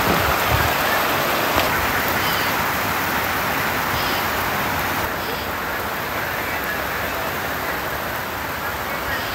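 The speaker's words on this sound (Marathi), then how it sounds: "फायनली पाऊस चालू झाला आहे आता." Rain falling steadily during a monsoon shower, a loud continuous broadband hiss of drops on surfaces with no break, heard close by and alone.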